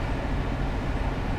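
Loud cab noise inside a freight locomotive in Train Sim 19, a dense continuous rumbling roar with no breaks, steady and close for a brief stretch.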